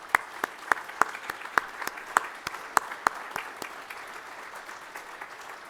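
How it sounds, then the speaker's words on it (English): An audience applauds board members, a steady run of hand claps with sharp individual claps standing out early and then thinning toward the end. "please join me in applauding the service that they've given us and the work that they're doing"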